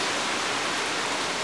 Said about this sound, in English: we need the rain, but it's kind of putting a damper in my plans